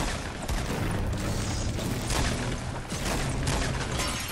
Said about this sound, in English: Do you hear the gunfire?